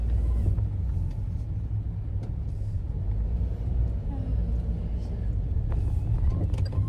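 A car passes by on a rainy road, a low rumble and hiss that swells and fades across several seconds, with no talking.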